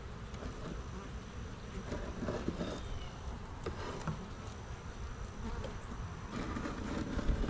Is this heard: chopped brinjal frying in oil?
no